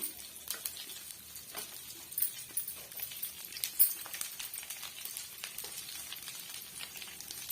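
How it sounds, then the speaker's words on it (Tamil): Chopped onion and garlic fry in a pan with a soft, constant sizzle and occasional stirring clicks, heard close and fairly quiet without any talk. "பாருங்க, நம்ம சேர்த்திருக்க வெங்காயம் வெள்ளை பூண்டு ஒரு அளவுக்கு வதங்கி வந்துடுச்சு"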